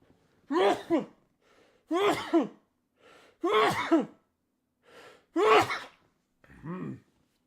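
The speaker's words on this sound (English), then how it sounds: "Hold on, I'm going to sneeze." Several strained, voiced breaths build up one after another with pauses between, like someone working toward a sneeze, close and fairly quiet.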